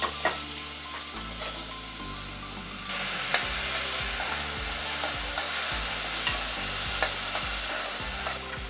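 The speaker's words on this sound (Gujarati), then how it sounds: "કાંદા સતરાય છે" Onions sizzle in hot oil with cumin, cloves, cinnamon and asafoetida while a spoon stirs and scrapes the pan, a steady loud frying hiss with repeated scraping strokes, close up, for veg pulao.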